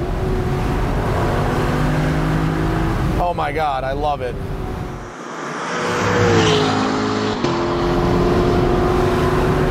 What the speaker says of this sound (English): The engine and its connection to the gearbox has such a motorsport feel.